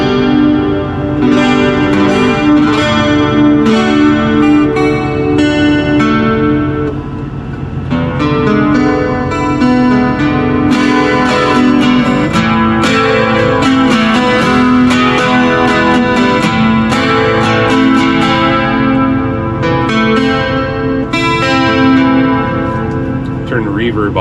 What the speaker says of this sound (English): Let's throw the chorus in here.